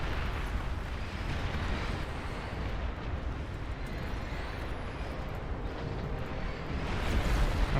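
Missile explosions in the strategy game Beyond All Reason, a sustained dense rumble of blasts and debris noise that holds steady and grows a little louder at the close, without speech.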